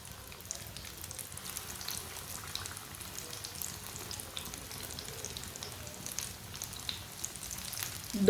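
Chicken shami kebabs sizzle in a little oil over a low flame, giving a steady, soft crackle and hiss with scattered pops throughout, ending in a slightly louder burst.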